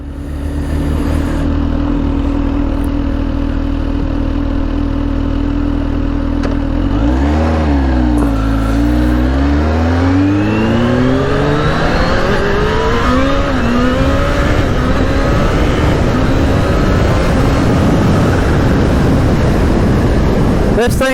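A Kawasaki ZH2 motorcycle engine under a rider, loud and continuous, with the engine note dipping and then climbing steadily through the gears as it accelerates, with wind rush throughout.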